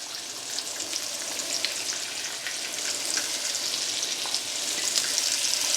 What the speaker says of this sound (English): We're just going to put all of our quail pieces in a pan.